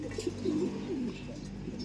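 Low, throaty pigeon coos repeat in soft rolling phrases, close by, over a steady background hum with no talking.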